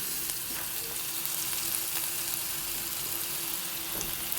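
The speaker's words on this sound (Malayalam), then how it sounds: "നന്നായി നമുക്ക് വഴറ്റിയെടുക്കാം." Ingredients for a mackerel curry sauté with salt in a pan over a slow flame, giving a constant close sizzle with faint stirring scrapes throughout.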